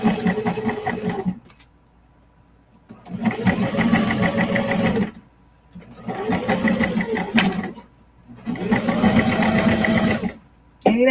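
A sewing machine stitches through a clear vinyl project bag in three long runs of steady rapid whirring, each separated by a brief pause, loud and close.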